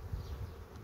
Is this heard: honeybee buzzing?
yes